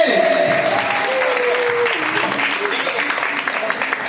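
An audience claps for a man named Indrajit at a gathering, steady applause running throughout under music and a voice talking over it.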